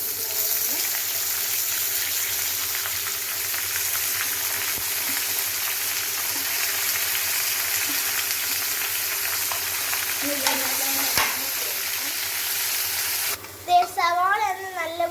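Sliced onions hit hot oil in a pan for fish biryani and keep up a loud, steady sizzle and crackle, with a brief stirring clatter and a voice near the end.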